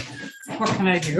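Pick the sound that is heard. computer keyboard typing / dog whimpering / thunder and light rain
dog whimpering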